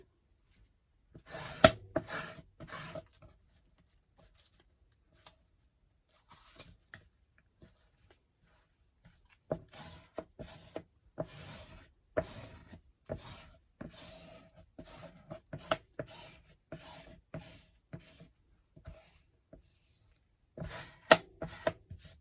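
Glued fabric is burnished down by hand in a snippet storage book, producing soft, scattered rubbing and scraping strokes in short bursts with pauses between, close and quiet.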